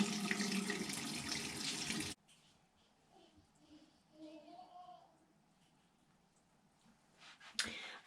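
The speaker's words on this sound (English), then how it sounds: "I'm gonna wash my hands again." Hands are washed under a running tap with a loud, close gush of water for about two seconds before it shuts off, leaving quiet small handling sounds and a brief knock near the end.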